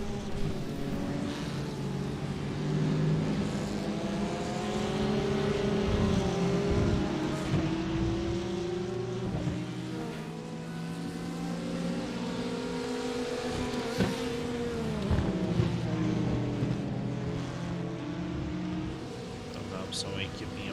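Simulated Porsche GT race cars in an esports endurance race at Barcelona drone past in a slipstream, their engine pitches rising and falling steadily while a commentator talks over them throughout.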